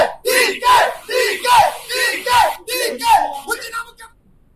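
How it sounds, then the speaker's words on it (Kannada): Supporters of DK Shivakumar chant slogans in his favour, a crowd shouting in loud rhythmic bursts, roughly one call each half second, near and forceful, tailing off into quiet at the end. "ಅಲ್ಲಿ ಟೋಟಲ್ ಆಗಿ ಎಲ್ಲ ಅಭಿಮಾನಿಗಳು ಕೂಡ ಡಿಕೆಶಿ ಪರವಾಗಿ ಜೈಕಾರವನ್ನ ಕೂಗ್ತಾ ಇರುವಂತದ್ದು"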